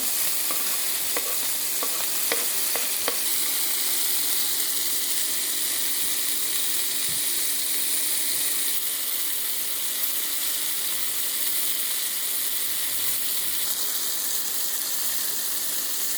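Onion and parsley stew with ground pepper and pieces of bream in a pan, a steady close sizzle with a few light clicks of stirring early on and no speech.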